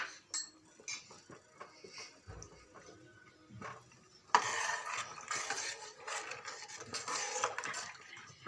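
Ragi malt porridge stirred in a pot with a spoon, giving repeated scraping clinks against the metal, quiet at first and then louder and busier in the second half, with no talking.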